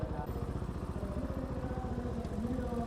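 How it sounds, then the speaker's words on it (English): A 2020 Bristol Classic 400i motorcycle engine running on a test ride, with a steady, close, rhythmic single-cylinder thump that stays even throughout, without any clear rise in revs. "The bike revs a little bit on the slow side, but here we go."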